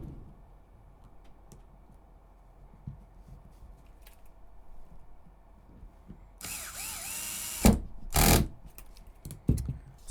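A 12 mm screw driven into an aluminum link on an HPI Venture SBK build, heard as a quiet buzzing ratchet-like whir in the back half, with a few sharp clicks and handling knocks after a long near-silent stretch.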